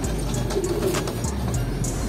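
A pigeon coos in a low, soft, repeated murmur close by, steady over a faint background hum with no talking.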